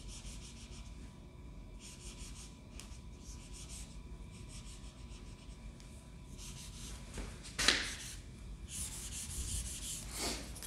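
Marker writing on a whiteboard and an eraser rubbing across it while math equations are changed make faint, soft scratching strokes in short bursts, with a few sharper squeaks and a louder wipe near the end; no voices.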